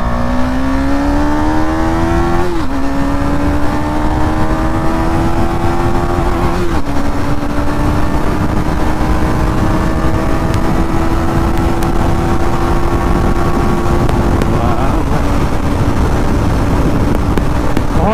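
A 2022 KTM Duke 250 motorcycle engine revs in second gear, its pitch climbing in long pulls that briefly drop at each throttle change, loud and close and alone with no talk.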